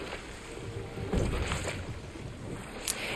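A boat glides over water in the video game God of War Ragnarök, a steady wash of splashing and rushing wind with a few louder swells and thuds, heard without speech.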